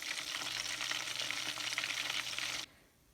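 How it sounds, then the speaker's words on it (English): Curried Scotch eggs deep fry in hot oil with a loud, steady, close sizzle that runs for several seconds before cutting off abruptly. "I'm going to try deep frying them now."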